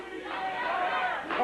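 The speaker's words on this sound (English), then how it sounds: "I've never heard anybody cheer for a DNA test before" A studio audience cheers and whoops in a loud, continuous swell that rises and holds for a moment before easing off.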